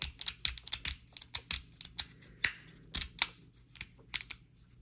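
A 3D printed resin fidget toy is clicked over and over, producing crisp, close, irregular clicks in quick succession with no voices.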